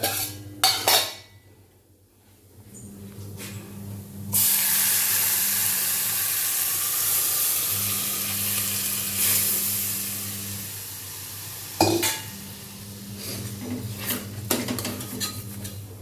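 Dal frying in a pan with a little salt and chili flakes, metal utensils clinking and scraping against the pan in short bursts over a steady soft sizzle and hiss.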